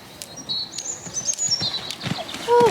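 A four-year-old horse canters in a schooling session, its hoofbeats coming as soft, irregular thuds beneath bright bird chirps and whistles nearby.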